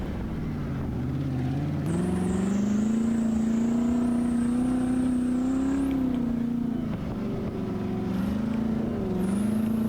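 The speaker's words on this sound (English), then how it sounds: "Gotta love the sound of that 350 Buick." A Buick 350 engine swapped into a junkyard Prius offroad runs steadily up close, a loud, continuous droning rumble that rises and falls slightly as the throttle shifts, with no talk.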